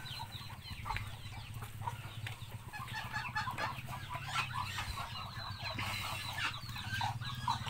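Muscovy hens and other farm poultry cluck and chatter in a backyard pen, with a steady mix of calls over a low constant hum, moderately close.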